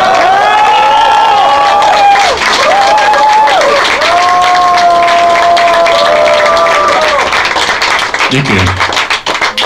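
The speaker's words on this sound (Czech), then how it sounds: "Potlesk patří kapele." A club crowd in Brno applauds the band at an album launch at Club Silencio, with loud, sustained clapping and cheering under lingering sustained music tones, and a voice briefly speaking near the end.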